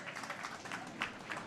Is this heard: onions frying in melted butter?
no